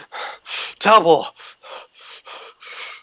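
A human voice imitates the panting of a guard bursting through a gate in a tabletop fantasy role-play: a string of short, breathy gasps around one loud shouted word.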